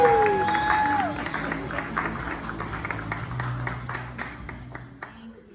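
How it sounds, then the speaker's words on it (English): Scattered audience clapping and light cheering welcome a comedian to the stage at a comedy club, starting under a fading tone and tapering off toward the end. "Start clapping."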